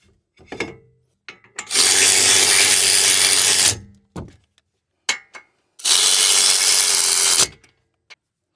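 A power tool drives lock nuts onto a Toyota RAV4 wheel hub during a wheel bearing replacement, two sustained loud whirring bursts of about two seconds each, separated by short clicks and clunks.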